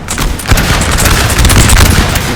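Battle sounds from Napoleon Total War, a dense roar of massed gunfire crackling with booming explosions rumbling throughout, loud and continuous with no pauses.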